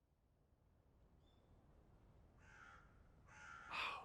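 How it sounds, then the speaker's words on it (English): Crow calls from the Haikyu!! movie, two or three harsh caws that grow louder toward the end over a quiet, hissy background. "The sound of the crow, karasuno bird flying through the sky."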